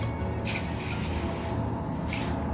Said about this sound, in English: now we can start to spray from the top